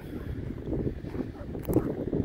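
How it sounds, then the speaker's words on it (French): Strong gusting wind at a paramotor launch site in Corsica buffets the microphone in a loud, rumbling roar, swelling and easing over a couple of seconds. "Je sais pas si j'ai déjà fait un déco avec autant de vent."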